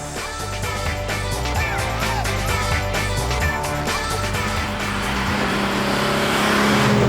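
A 33-year-old Triumph TR sports car, restored and updated by Racestorations, drives hard with a loud, continuous engine note that climbs in revs and surges closer toward the end.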